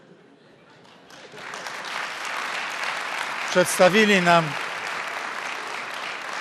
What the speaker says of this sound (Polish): to nie trzeba bić brawa